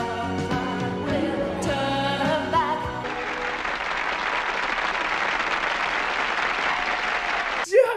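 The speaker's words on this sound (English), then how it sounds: "Which ends with thunderous applause." A singing voice with music gives way to loud, sustained applause from a large crowd, a dense roar of clapping that continues to the end.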